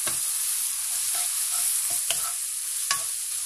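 Ground spices such as coriander powder and garam masala frying in oil in a pan for Rajasthani dal, stirred steadily: a constant bright sizzle with a few soft scraping strokes of the spoon, close up and with no talk.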